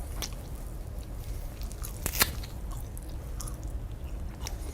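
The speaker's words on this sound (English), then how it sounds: "I could sit here and chew on this bone for a good 15-20 minutes" A person gnawing on a raw animal bone makes close, steady crunching and biting sounds, with one sharper crack midway through the stretch.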